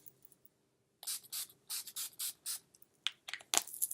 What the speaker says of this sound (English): I'm just going to set my face with my NYX setting spray